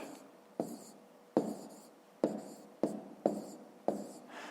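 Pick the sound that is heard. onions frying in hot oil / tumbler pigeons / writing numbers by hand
writing numbers by hand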